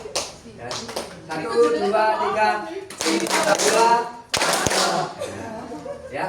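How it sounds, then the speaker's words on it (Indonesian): Hand clapping in a counting-and-clapping game led by a teacher, with claps in short groups mixed with voices counting aloud and chanting over them. "Ya, tepuk tangan."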